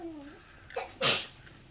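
A single short sneeze bursts out near the end, preceded by a brief breathy intake and a faint voice.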